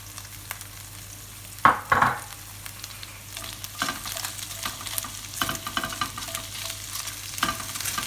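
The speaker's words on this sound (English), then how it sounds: "Now I've got my pan on medium-high heat. I'm going to put in 1 onion that has been thinly sliced." Thinly sliced onion cooking in a pan over medium-high heat, with a soft steady sizzle beneath a few sharp stirring scrapes near the start and occasional utensil clatter.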